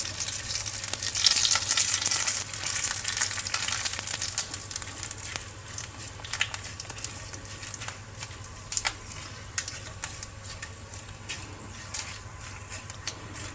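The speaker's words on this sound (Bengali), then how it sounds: "লঙ্কা 5 ফোড়ন সুন্দর ভাজা হয়ে গেছে" Panch phoron spice mix and three cut dried red chillies crackle and sizzle in hot oil, a steady dense fry that is loud at first and settles into quieter sizzling with scattered sharp pops.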